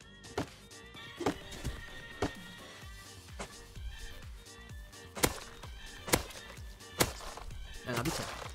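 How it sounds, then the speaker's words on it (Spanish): A horse in the Rust survival video game whinnies several times, with sharp hoof clip-clops and knocking hits spaced irregularly between the calls. "Ese caballo corre por algo, ¿eh?"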